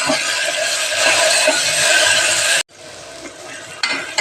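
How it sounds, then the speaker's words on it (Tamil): Onion, tomato and garlic sauté in a pan, giving a dense, steady sizzle with stirring for more than half the clip, then breaking off sharply into a quieter stretch with faint scraping. "பூண்டு கட் பண்ணி வச்சு வெங்காயம், தக்காளி எல்லாத்தையும் சேர்த்து நல்லா வதக்கணும்"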